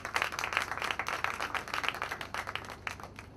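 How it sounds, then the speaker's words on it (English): A crowd applauds at the brand launch of Jaipur Jewels, a jewellery store opening, with a steady, moderately loud wash of dense clapping throughout and no voices on top. "Can we hear a round of applause for this auspicious day?"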